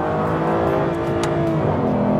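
A 2011 Aston Martin Virage engine roars loud and close as the car brakes hard on dry tarmac and downshifts to second gear. A brief blip of revs marks the gear change.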